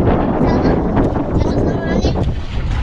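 Strong wind gusts across an open fishing boat at sea, roaring loudly and constantly against the microphone, with a low rumble underneath.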